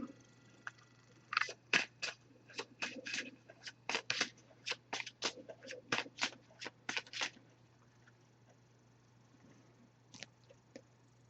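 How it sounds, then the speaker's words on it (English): Quiet riffle shuffling of an oracle card deck, a run of about twenty crisp, rapid card snaps lasting several seconds, then a pause and a couple of faint final taps, with no voices. "I'm going to give this a few shuffles."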